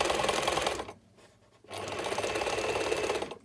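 A sewing machine stitches around a bound hem on a curved edge, running loud and close in a steady buzz, pausing briefly partway through before starting up again.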